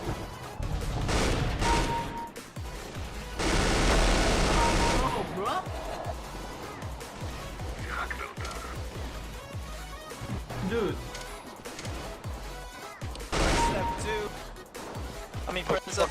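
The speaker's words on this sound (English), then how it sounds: "Conversely, shooting the M249 feels sluggish and somewhat sad in comparison." An M249 machine gun fires in CS:GO, with bursts of rapid gunfire and sustained rattling volleys. A voice talks over and between the shots.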